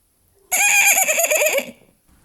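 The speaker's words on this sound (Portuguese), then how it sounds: "O cavalo!" A single close, loud horse neigh, a shrill quavering whinny lasting about a second, heard alone.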